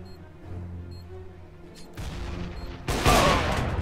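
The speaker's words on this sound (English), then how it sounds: "I heard the freaking gunshot." Gunfire in the video game Counter-Strike: Global Offensive, a couple of sharp bursts that grow louder toward the end, heard over faint game ambience.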